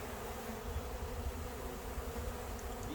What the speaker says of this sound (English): You'll see bees flying around,